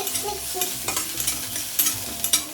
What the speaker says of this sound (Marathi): तडकायला लागलं तर आता आपण जे ठेचून घेतलेलं आलं लसूण आणि मिरची ती ॲड करूया.